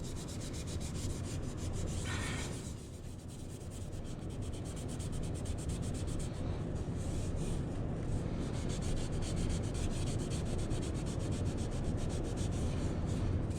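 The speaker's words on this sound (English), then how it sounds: "Scrub off any existing sticker residue is the main problem I'm trying to get" A rag scrubs alcohol over sticker residue on a motorcycle body, giving a continuous close rubbing and swishing sound with rhythmic strokes, briefly easing off before resuming steadily, with no talk.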